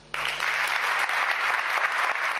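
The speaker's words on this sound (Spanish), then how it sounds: "Una larga ovación sirvió de agradecimiento por parte del pueblo de Burgos al que ha sido su pastor en el último lustro." A crowd of people from Burgos breaks into a loud, sustained ovation for their departing bishop, the dense clapping starting abruptly and continuing steadily close by.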